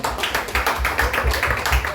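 An audience claps at a small live music show, a run of brisk, fairly even hand claps, close and moderately loud, with no talk over them.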